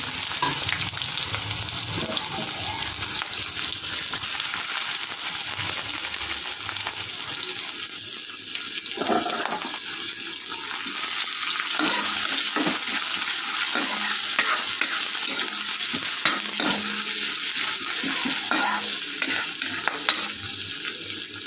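Sliced onions sizzle steadily in hot oil with panch phoron and dried red chillies while being stirred, a loud, continuous frying hiss broken by scraping spoon strokes.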